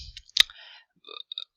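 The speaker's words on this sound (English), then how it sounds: "I'm going to type T and D, and then I'm going to type my" Sparse key presses on a computer keyboard while building a database table, a few light separate clicks with quiet gaps between them.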